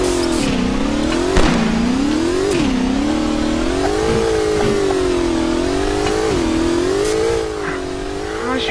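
A car engine in the video game GmodZ drives steadily with a loud mid-pitched hum that rises and falls as it revs and shifts, close and continuous, with a few knocks and bumps along the way.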